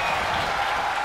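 Virtual wrestling arena crowd in WWE 2K24 keeps up a steady, dense roar of cheering and applause, a continuous wash of noise with no breaks across the short stretch.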